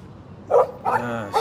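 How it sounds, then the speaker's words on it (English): A dog barks in Life is Strange, giving a few short, loud yaps in quick bursts over a low background hum. "No barking."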